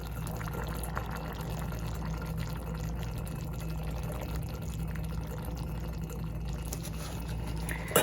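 Liquid lip stain is poured into a pan until full, making a quiet, steady trickle against a low room hum.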